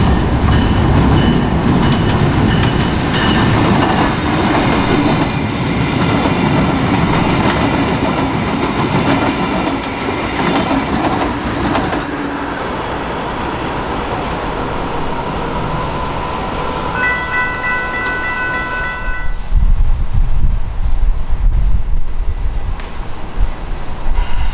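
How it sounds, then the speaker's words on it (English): A Brightline train crossing the New River Bridge in Fort Lauderdale, a loud, close, sustained rumble of wheels and rhythmic clacking with wind across the microphone and a horn sounding partway through; no talk. "we would catch a few trains at the Fort Lauderdale New River Bridge."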